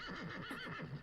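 A horse whinnies in a One Piece anime episode, a loud wavering neigh with repeated rising and falling cries filling the whole moment, heard alone without talk.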